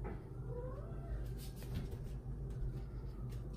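A house cat meows a few times in drawn-out, rising calls, close by, over a steady low room hum with no talking.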